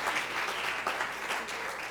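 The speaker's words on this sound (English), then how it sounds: "Give him a round of applause." Audience applause at a student media awards ceremony, a steady, dense clapping that runs evenly throughout, moderately loud and filling the room with no talk over it.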